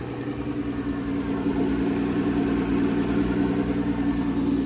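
A turbocharged Lexus IS300 fitted with a CT20 turbo idles up close with a loud, steady low rumble and a gentle rhythmic pulse, holding even throughout with no talking over it.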